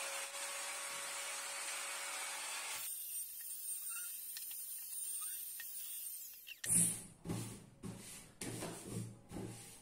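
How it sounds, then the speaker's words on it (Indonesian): A wood trimmer bevels the corners of a wooden stool, a loud high-pitched motor whine that cuts off abruptly partway through, followed by a pause and then a series of knocks and handling sounds. "memberi sedikit bevel pada setiap sudut dingkliknya menggunakan trimmer"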